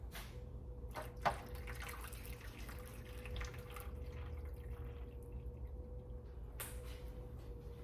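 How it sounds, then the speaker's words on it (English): Hot water poured into a bain-marie pan around custard ramekins for honey flan, a soft steady liquid wash with a few sharp drips and clinks over a faint hum. "So you want the hot water that you put in the pan to come about halfway up the sides of the ramekins."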